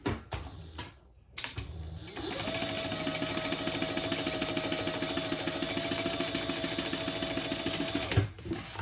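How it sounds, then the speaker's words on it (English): A sewing machine stitches across the top seam of backpack side pockets, running in a fast, steady whir for several seconds after a few brief clicks and a short pause. "we're gonna sew across the top at the seam allowance in the pattern"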